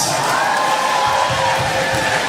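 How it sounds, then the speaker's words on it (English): A large church congregation at a service attended by Kenya's deputy president applauds and cheers loudly, with sustained whoops and shouting over dense clapping throughout. "Let's give the Lord a loud applause."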